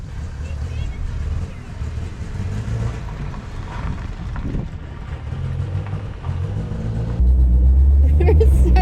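A 1983 Toyota Corolla Wagon engine struggles and fails to rev up, giving a loud, close, uneven rumbling drone with voices talking over it, and a heavier surge near the end.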